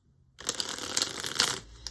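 Tarot cards being shuffled, a dense papery riffle and slide that begins after a short silence and goes on steadily at close range, with no voices.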